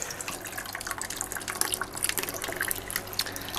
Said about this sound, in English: let's get some water out of the pot first. Otherwise, it will make a mess.